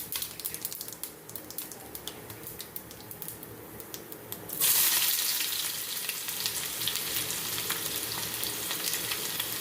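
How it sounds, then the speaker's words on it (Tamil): Fennel seeds and curry leaves hit hot oil in a kadai, bursting into a loud, steady sizzle midway after a quieter stretch of faint kitchen noise, with no talking. "இப்போ சோம்பு, கருவேப்பிலை போட்டு தாளிச்சுக்குவோம்"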